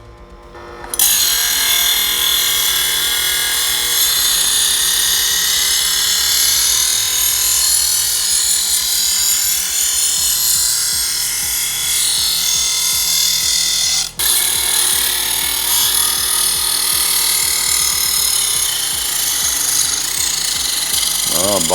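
A VEVOR electric knife sharpener grinds a badly worn knife on the coarse slot, giving a loud, steady, harsh buzzing whine that runs continuously for about twenty seconds with one brief dip near the end.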